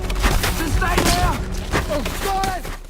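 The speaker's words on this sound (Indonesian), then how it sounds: "Sebuah tembakan mendarat tepat di tubuhnya." Gunfire from a combat scene in the war film Danger Close: The Battle of Long Tan, loud and dense, mixed with a sustained music score and dramatic effects throughout.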